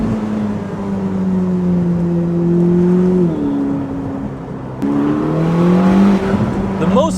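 A 1000 hp Ferrari SF90 Spider hybrid accelerating hard, its engine note climbing steadily, briefly dropping at a gear change and then rising again, heard loud from inside the car under a speaking voice.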